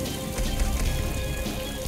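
Rain effect from the Rainmaker item in The Binding of Isaac fills the moment with a short, steady patter and hiss of falling drops, loud and even throughout, with no talking.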